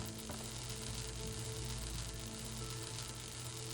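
Steady, quiet sizzling hiss from an effect in the video game The Talos Principle 2, a continuous crackly noise with faint tonal hum underneath and no talking.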